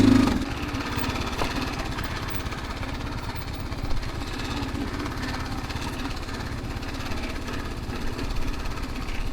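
A motorcycle engine runs steadily on a rough off-road trail near Poondi in Kodaikanal, its loud continuous drone and low rumble holding throughout with slight fluctuations in intensity.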